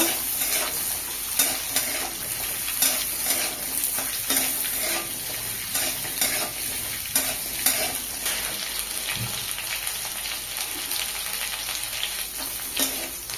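Potatoes frying in a pan for a small-fish curry, a constant close sizzle broken by regular spatula scrapes and stirs every second or so, no voices.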